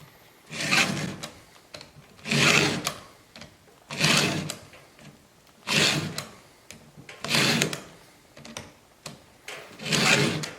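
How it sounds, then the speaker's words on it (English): A chainsaw chain's teeth are hand-filed with a file in six slow, regular rasping strokes, each a rough scrape of metal followed by a brief pause as the file lifts back. "when I'm filing, it's all the pressures on the away movement."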